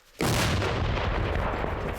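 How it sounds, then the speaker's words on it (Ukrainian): An artillery gun fires a shell with a sudden massive blast, its heavy roar rumbling on and slowly fading, very loud and close. "Один снаряд вогонь! Армата! Постріл!"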